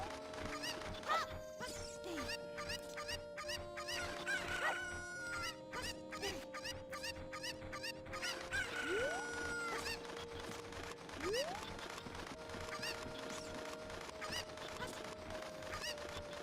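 Chickens clucking in the video game The Legend of Zelda: Ocarina of Time, with scattered game chimes and effects over a steady background music bed.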